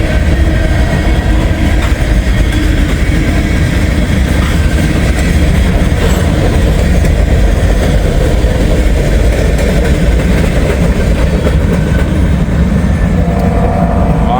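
A short CSX or Norfolk Southern train rolls past at night, a loud, steady rumble of engine and railcars with faint clickety-clack over the wheels, close by and continuous throughout, with no voices.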